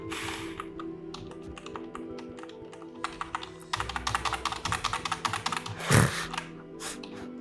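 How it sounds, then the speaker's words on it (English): Fast, irregular clacking of keys on a computer keyboard, growing denser and harder partway through, with one heavier thump near the end over a faint background hum. "If I smash my keyboard harder, it'll solve it, right?"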